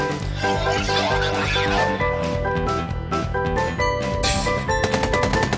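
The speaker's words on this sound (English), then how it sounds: "Gunfire erupts from behind SCP-682." Rapid bursts of gunfire rattle over a loud, dramatic musical backdrop, ending in a quick run of sharp shots.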